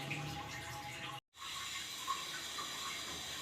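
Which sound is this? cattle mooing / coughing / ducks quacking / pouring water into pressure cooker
pouring water into pressure cooker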